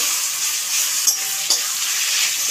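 Taro greens frying with a steady, loud hiss in a pan, the continuous sizzle broken by a few soft clicks of a utensil stirring through them.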